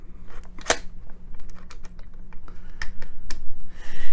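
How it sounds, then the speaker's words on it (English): A bolt stop on a WWII Johnson Model 1941 rifle slides into the rear of the receiver, giving a series of light metallic clicks and scrapes with sharp ticks scattered through the handling. "The bolt stop here just simply slides into the rear of the receiver."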